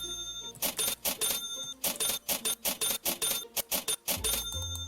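Beeping from the supermarket video game Supermarket Together: a rapid run of checkout-scanner-style beeps in quick rhythmic bursts, loud and layered over steady background game music.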